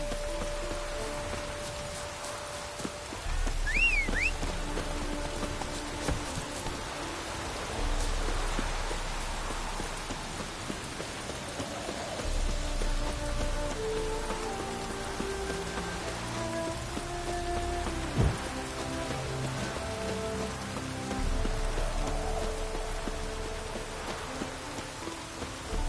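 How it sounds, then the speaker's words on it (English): Steady rain falls in The Witcher 3: Wild Hunt, a continuous hiss of drops on the ground running through the whole stretch, with low ambient game music and faint scattered effects underneath. "No use doing any work in this rain."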